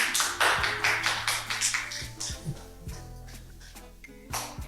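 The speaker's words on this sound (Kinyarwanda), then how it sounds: "amashyi menshi cyane" Audience applause at a Pop the Balloon Rwanda dating show, a dense burst of clapping that swells early and then thins out over steady background music.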